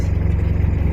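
A vehicle engine idles near a farm, a steady low rumble with a faint even pulse that holds constant from start to end, with no talking.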